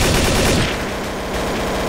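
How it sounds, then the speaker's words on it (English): Dense automatic gunfire in the Roblox Jailbreak video game, a loud rapid rattle of shots that drops to a lighter, steady stream of fire, with no talking. "there's a guy firing through the wall"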